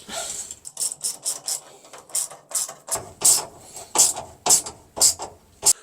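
A hand tool ratchets in quick, rhythmic bursts, a dozen or so sharp close clicks, while hose clamps are tightened on a race car fuel cell.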